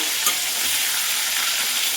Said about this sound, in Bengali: এবার মাছগুলোকে ভালো করে আমি ফ্রাই করে নেব